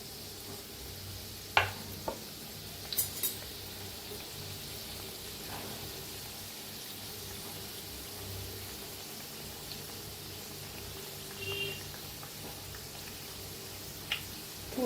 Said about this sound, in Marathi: तेल चांगलं गरम झाले. तळूया आपण.